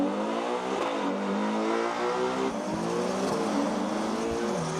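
A Ferrari Purosangue and a BMW X5 M launch side by side in a drag race, engines revving hard and rising in pitch through quick upshifts, loud and steady for the whole run.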